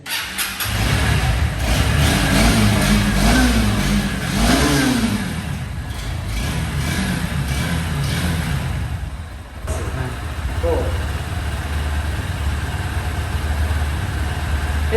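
A Hornet motorcycle at a used-bike dealer blips its throttle in a few rising revs early on, then settles into a steady, loud idling drone that runs on alone.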